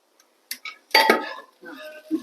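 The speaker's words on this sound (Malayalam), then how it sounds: "നമ്മൾക്ക് മൂടി ഒന്ന് തുറന്നു നോക്കാം" Metal lid lifted off a pot of Kerala thoran simmering on a medium flame, giving a couple of quick close clinks followed by a brief rattle.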